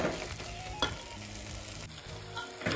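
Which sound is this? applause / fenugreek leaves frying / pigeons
fenugreek leaves frying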